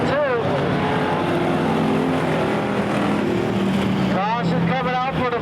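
Pure stock race cars roar around the oval at Barona Speedway, a steady dense engine drone filling the whole stretch, with a race announcer talking over it throughout.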